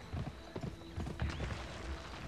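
Horse hooves clip-clop at a gallop in a video game, sounding as a steady, fairly close rhythm of hoofbeats over noisy game ambience.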